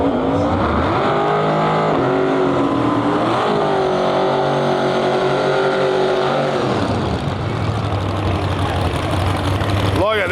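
A Camaro drag racing car at a Lights Out event rumbles with a loud, continuous engine drone that rises and shifts pitch, crowd and track ambience underneath and no clear talk.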